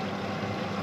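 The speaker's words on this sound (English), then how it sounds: "Engines are nice and warm, purring like cats." Boat engines hum steadily on the water off the Florida Keys, a close, continuous low drone mixed with wind and water wash, with no talking.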